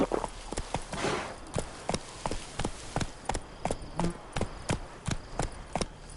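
Roach, the horse in The Witcher 3 on PS5, gallops with a fast, regular rhythm of sharp hoofbeats, steady and close across the whole stretch, with faint game ambience underneath.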